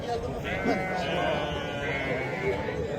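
Sheep bleat in a couple of short, wavering calls at a livestock market, close by, while people keep talking over a noisy background.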